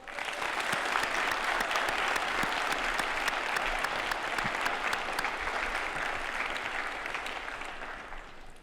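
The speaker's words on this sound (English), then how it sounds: "I would ask our graduates to join me in a round of applause for your parents and families." At a high school graduation ceremony, the audience gives a loud, dense round of applause for parents and families, sustained throughout and tapering slightly at the end.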